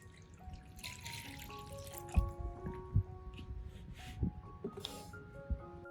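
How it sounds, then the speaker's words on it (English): A banana, turmeric and fermented solution poured into an orchid soaking tray, giving wet drips and splashes with a few louder plops over a low liquid trickle, close and without talk. "I'll pour some of the solution into a soaking tray."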